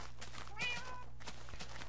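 An orange cat in Minecraft gives a short, faint meow midway through, with quiet background noise around it.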